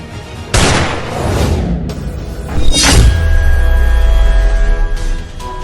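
A single gunshot fired at a target cracks out loud and close, followed by a second sharp bang and a long low rumbling boom that trails off under a sustained tone.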